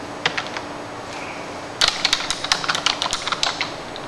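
Rapid typing on a computer keyboard, a quiet tapping at first, then a denser, louder burst of close key clicks in an uneven rhythm, with no talk.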